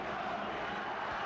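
A boxing crowd at a WBO super-middleweight bout between Chris Eubank and Graciano Rocchigiani roars steadily, a dense, sustained wall of cheering and shouting that fills the whole moment without a break.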